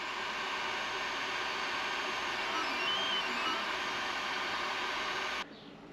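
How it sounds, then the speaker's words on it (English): A 3D printer printing a guide part for sailboat stern handles, giving a steady, dense mechanical whir that holds level throughout, then cuts off abruptly near the end. "Here is the part being printed on the 3D printer."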